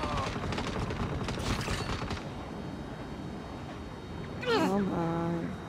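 Gunfire in Saints Row, rapid crackling shots clustered through the first two seconds over a low rumble, followed by a high wavering cry near the end, with voices talking.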